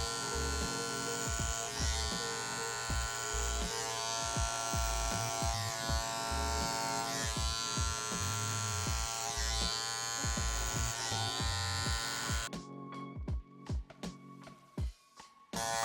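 An electric beard trimmer buzzes steadily as it glides down a beard during a faded beard cut, a close, constant hum with slight rhythmic shifts as it moves, cutting off near the end.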